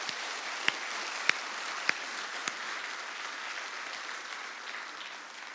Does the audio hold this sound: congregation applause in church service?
yes